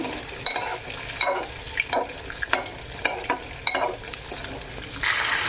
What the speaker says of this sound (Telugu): ఇట్లా కొంచెం సేపు నూనెలో ఒక ఫైవ్ మినిట్స్ నూనెలో వేయించుకోవాలి